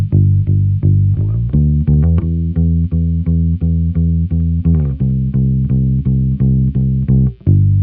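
Fingerstyle bass guitar plays a steady run of plucked notes, each with a sharp attack and round sustain, running through a distortion or chorus effect with no voices.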